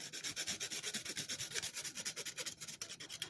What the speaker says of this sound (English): And nutmeg. So I like to use fresh, and I grate it on the